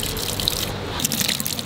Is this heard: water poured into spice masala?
yes